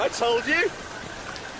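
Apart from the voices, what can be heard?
artificial rain from a cloud made by engine exhaust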